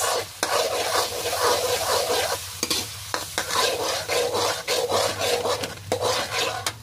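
A spoon stirs paprika into raw chicken wings in a bowl, a dense, wet scraping and squelching that runs continuously with short gaps, close and fairly loud, with no voices.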